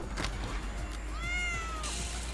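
A single cat gives one drawn-out, rising meow, faint and fairly brief, over a steady low hum of background noise.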